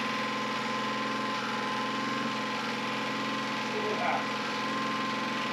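Graco 3400 line striping machine's engine running steadily with a constant drone and rising RPM, close and loud, with a person speaking briefly over it.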